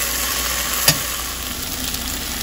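Onions and green chillies fry in a pan with a steady, even hiss of sizzling oil, one brief clink partway through, close and without talk.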